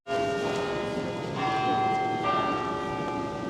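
Large bells of a 13th-century Gothic cathedral in York ring continuously from two bell towers, with overlapping, resonant tones that shimmer and sustain, heard from a moderate distance.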